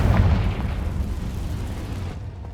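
A single Confringo spell blast in the game Hogwarts Legacy, a loud deep boom at the start that rolls into a dense rumble and slowly decays over a couple of seconds.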